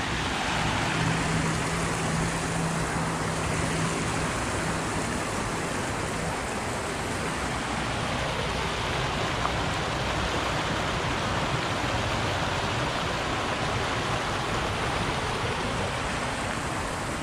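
Creek water flowing past old stonework at a possible former mill site in a historic park, a loud, steady broadband rush holding evenly throughout with no talk.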